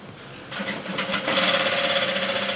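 A sewing machine runs as it stitches around the neck of a long frock, starting after a brief pause and settling into a steady, close, rapid mechanical whir that holds to the end.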